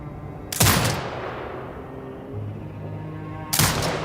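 Two heavy turret shots in Sniper Ghost Warrior Contracts 2 boom about three seconds apart, each a sharp loud blast followed by a short rumbling decay over a quiet background hum.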